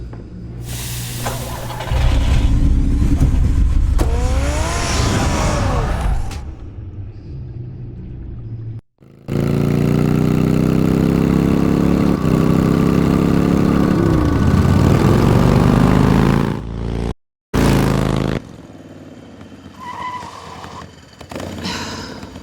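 Batman's car engine in the Telltale Batman video game, a loud sustained rumble with rising revs that cuts out briefly twice and returns, heavy and close throughout.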